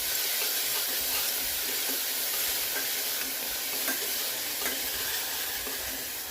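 Fenugreek and coriander leaves fry in a pan with a steady, close sizzle and hiss, broken by light scraping and stirring clicks throughout, with no voices.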